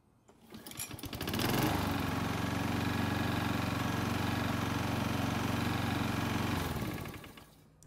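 A small Toro lawn mower engine starts hot, revs up and runs at a steady, loud drone for several seconds before cutting off.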